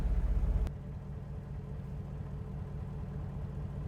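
A truck engine runs just after being started: a heavy low pulsing at first that drops after under a second into a steady, moderately quiet idle rumble.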